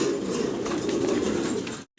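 Pigeons at a large pigeon farm, low soft cooing murmurs blending into a steady background for a couple of seconds before abruptly cutting out.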